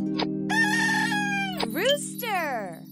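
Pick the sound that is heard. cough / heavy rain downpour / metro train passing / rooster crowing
rooster crowing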